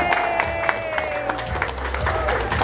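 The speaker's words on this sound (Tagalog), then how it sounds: "Palakpak po ulit, malakas, palakpak." Wedding guests applauding the newlyweds right after they are pronounced husband and wife, moderate clapping under sustained music, with some crowd voices.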